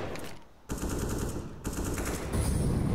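Rapid automatic fire from an AK and an MP9 in a professional CS:GO match on the Nuke map, loud dense bursts that stop briefly and then resume.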